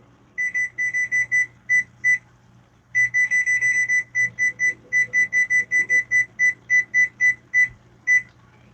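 A kitchen timer alarm sounds while stuffed bell peppers are being cooked, giving clear, close, high-pitched beeps in quick bursts of several, then a short pause, repeating steadily throughout.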